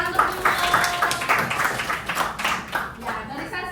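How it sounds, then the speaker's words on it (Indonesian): A high school class claps hands together in a classroom, a moderately loud, uneven patter of many hands that rises and fades over a few seconds, with some voices mixed in. "Tepuk tangan untuk Bimo."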